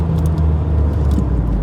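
A 1984 Vauxhall Cavalier drives steadily toward a roundabout, its engine and road noise forming a close, continuous low rumble with no one speaking.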